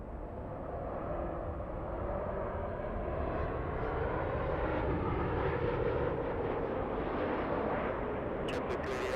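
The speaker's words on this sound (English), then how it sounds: "we're going to stay with the 737, the Mexican 737." A Boeing 737 airliner departs LAX with a loud, broad jet roar that builds and holds steady, heard from a distance with no talk over it.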